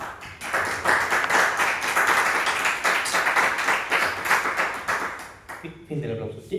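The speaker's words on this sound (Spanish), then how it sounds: "Un aplauso, por favor." Audience applause following a poetry reading at a club event, dense steady clapping from a room of listeners that tapers off near the end as a voice begins to speak.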